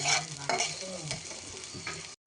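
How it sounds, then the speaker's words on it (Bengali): Ginger and chopped onion fry in a pan with a soft sizzle. A few stirring scrapes are heard before the sound drops out abruptly near the end. "আদা, পেঁয়াজ কুচি দিয়ে এগুলো ভালো করে আমি লাল করে ভেজে নেব।"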